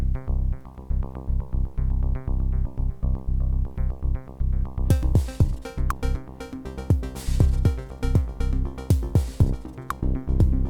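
Synth bass in Ableton Live with an echo effect: a steady, monotonous low bass pattern repeats on its own. Midway through, bright percussive hits and repeating echoed tails come in, filling out the texture.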